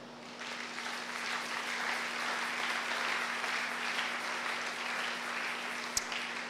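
A church congregation applauds steadily for several seconds, a dense, even wash of clapping with no voices rising above it.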